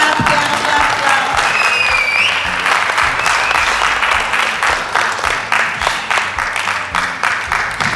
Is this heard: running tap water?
no